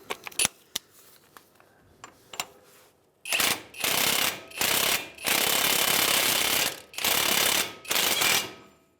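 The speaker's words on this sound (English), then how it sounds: "To speed up this process, we're going to use the impact." An impact wrench works the CV axle nut on a 2007–2015 Mazda CX-9 in six loud, close rattling bursts. Softer clicks and handling noises come before the bursts.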